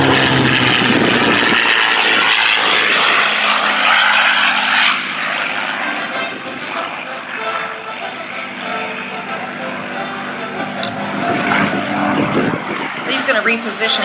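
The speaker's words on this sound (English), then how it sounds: "The old ailerons and airflow ducting were some of the wonderful attributes of the P-51 Mustang." A P-51 Mustang propeller fighter roars past during an airshow demonstration flight at Sun 'n Fun, loud at first and then fading to a steady drone, with an announcer talking over a public address.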